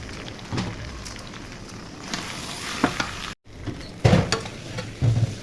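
Meat and rice fry together in a pan for chicken biryani, a soft continuous sizzle broken by bursts of stirring and scraping, one brief dropout midway.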